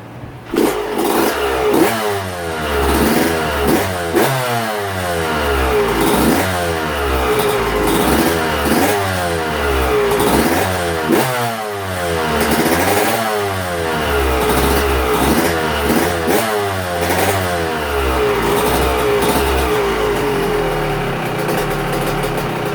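An engine runs during a heat cycle, repeatedly revving up and falling back in a steady rhythm over a constant rumble, loud and close throughout.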